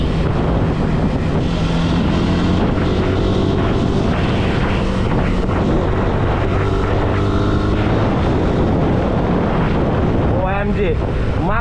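A modified Yamaha R15 V2 motorcycle being ridden, its engine a steady loud drone throughout, smeared by heavy wind buffeting against the microphone, with brief voices near the end.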